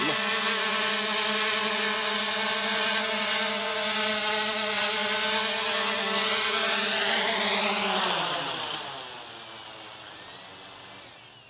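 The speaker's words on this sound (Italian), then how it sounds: "andando ad armare i motori come vi ho fatto vedere nel video tutorial, il drone sta pronto al decollo" Xiaomi Mi Drone 4K with its motors armed and idling, a loud steady multi-toned whine that holds for about eight seconds, then sweeps down in pitch and fades as the motors spin down.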